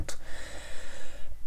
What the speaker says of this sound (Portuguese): Mais um pigarro.